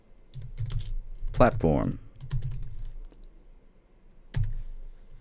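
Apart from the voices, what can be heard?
typing a command on a computer keyboard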